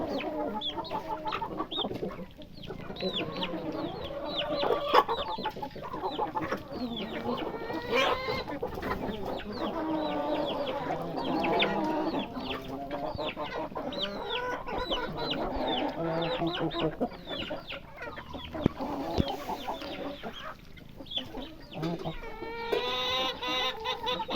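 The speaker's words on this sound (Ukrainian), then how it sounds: "Хотіла однести курям. Маленькі вже вони як підросли." Chickens cluck and chatter continuously nearby, a busy overlapping flock sound with varied short calls.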